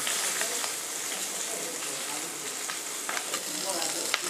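A rohu fish head frying in hot oil for a traditional Bengali dish gives a steady close sizzle with scattered pops and crackles that runs without a break.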